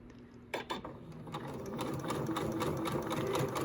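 A sewing machine fitted with a gathering foot stitches fabric, starting with a few clicks before settling into a fast, steady mechanical whir, close and fairly quiet.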